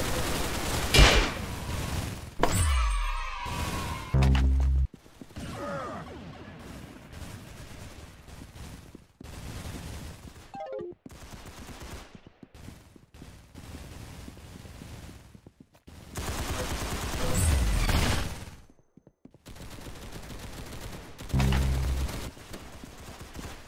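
Gunfire rings out in the Roblox game Arsenal, with sharp bursts of shots, bangs and scattered effects separated by quieter gaps, plus occasional whooshes and impact sounds.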